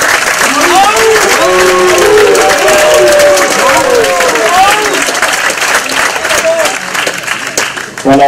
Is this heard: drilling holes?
no